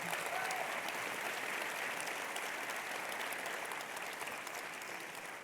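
Steady, dense audience applause at a conference opening session, sustained throughout and tapering slightly toward the end, with no talk over it.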